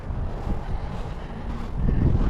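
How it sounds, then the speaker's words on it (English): Steady wind buffets the microphone outdoors at a large cemetery in Lake Charles, a low rumbling roar growing a bit stronger toward the end. "It's windy out here."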